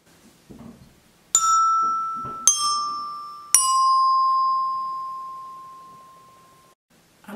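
Three bright metallic chime strikes played one after another during a music lesson, each tone ringing clearly and decaying slowly, with the last note sustaining for several seconds; faint movement noise comes before and after.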